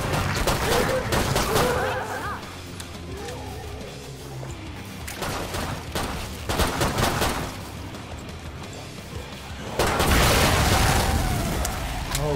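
Pistol gunfire rings out in the zombie shooter Killing Floor 2, with repeated sharp shots and bursts spread across a busy, loud game soundscape.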